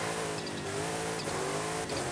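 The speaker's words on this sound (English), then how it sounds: "You could just watch the engine roaring and shaking and rumbling." Engine of a Hot Wheels car in Forza Horizon 5 roars steadily and loudly, a dense, continuous rumble with slight pitch shifts as it revs, heard alone without any talk.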